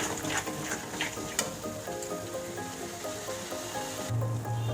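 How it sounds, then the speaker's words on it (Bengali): Masala spice paste being fried down in a pan for khichuri, a continuous crackling sizzle with scraping stir sounds running throughout, close and fairly loud, with no talking. "এবার মশলাটা ভালো করে কষে নেব।"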